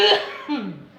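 A single short cough, fairly close, as a person is tested for coughing after a doll is moved away.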